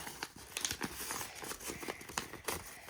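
Crinkly plastic rustling and tearing as a package is pulled open, a steady run of crackles and rips up close, with no talking.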